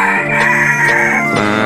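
A rooster crows loudly and close by, one long sustained call over steady clucking from chickens and other fowl in a farm coop.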